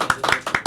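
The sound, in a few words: people clapping hands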